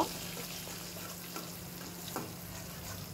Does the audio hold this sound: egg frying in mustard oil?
yes